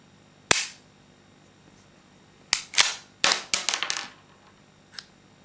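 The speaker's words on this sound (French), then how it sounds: "On pouvait voir que l'arme avait un peu de mal à chambrer, mais ça vient pas de l'arme, ça vient de mes munitions inertes" A Ruger MKIII 22/45 pistol being cycled by hand with worn inert dummy rounds that struggle to chamber: sharp metallic clacks of the slide, one alone, then a quick irregular cluster of snaps and rattles, close and crisp.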